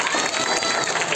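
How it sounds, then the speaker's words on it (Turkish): Applause and crowd noise from an audience at a school Nevruz celebration, a brief, steady wash of clapping and cheering at moderate distance. "Bir kez daha alkışlar mısınız kendisine?"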